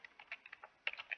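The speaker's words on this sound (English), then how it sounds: "Typing" Fingers type on a computer keyboard while running a terminal command, a quick irregular patter of soft key clicks that is close but quiet, with no voices.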